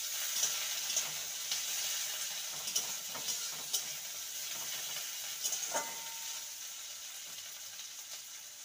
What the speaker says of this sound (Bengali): দিয়ে দেবো পেঁয়াজ কুচি, পেঁয়াজটাকে হালকা ভেজে নেব।